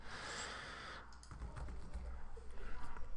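Rapid clicking of keys as random text is typed into a slide in Microsoft Word 2013 on a computer keyboard, quiet and close, in an irregular run of taps after a brief hiss at the start.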